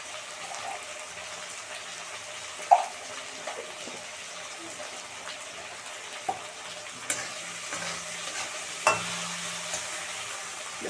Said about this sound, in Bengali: ভালো করে কষানো